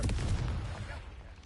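Deep booming blast of the Confringo fire spell in Hogwarts Legacy, a single loud low thump that rumbles and fades over about a second.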